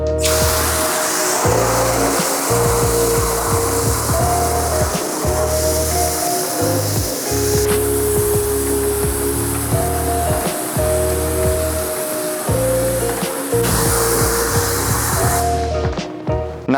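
A pressurized water spray rinsing a car engine hisses steadily with rhythmic pulses and splashing, broken by short pauses as the spraying stops and restarts.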